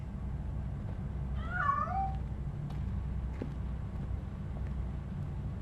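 Cat in the video game Robocop: Rogue City giving a single short, wavering meow as it escapes, faint over a steady low background hum, with a few small clicks afterward.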